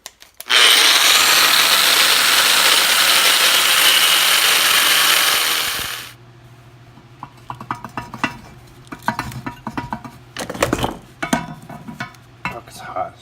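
Angle grinder cutting through the steel Y pipe and long tube headers of an 82-92 Camaro, a loud continuous high-pitched screech for several seconds that stops abruptly, followed by scattered clanks and scraping of metal parts.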